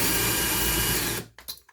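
A drill grinds steadily through a metal Filofax ring eyelet for about a second, loud and close, then cuts off into a few brief clicks and taps.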